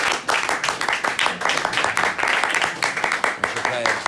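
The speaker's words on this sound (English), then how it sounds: "you could give them a hand of applause" Loud, lively applause for the musicians at a Jewish gathering, many hands clapping in a dense irregular patter that holds steady throughout, close and full.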